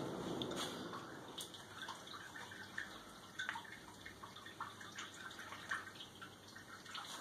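Liquid pours and splashes steadily at close range during home beer brewing, with small drips and gurgles, no voices.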